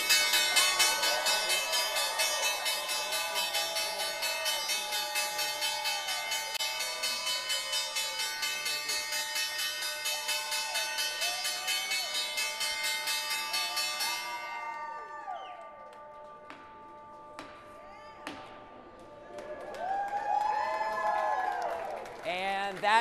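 Stock exchange closing bell ringing on Wall Street at the end of a volatile trading week, a sustained bright metallic ring layered with applause and cheering from the floor, then fading into scattered clapping and voices.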